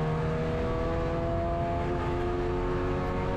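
In a racing game, a race car engine screams flat out on a full-throttle stretch, a sustained buzzing tone with stacked harmonics that stays constant and loud throughout.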